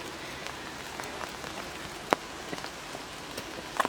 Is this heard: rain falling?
yes